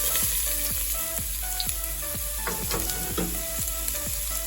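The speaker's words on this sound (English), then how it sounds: "in a large pot you want to heat up some oil, and then once that's ready you want to put in your onions" Onions frying in hot oil in a large pot give a steady, close sizzle, with a wooden spoon scraping and knocking the pot in a regular rhythm throughout.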